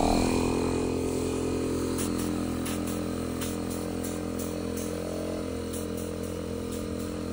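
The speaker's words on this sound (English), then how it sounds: "We connect the air compressor." An air compressor of about 700 watts running on power from a homemade 3000 W solar panel built with CDs and DVDs, a steady loud motor drone that holds level throughout with faint clicks on top.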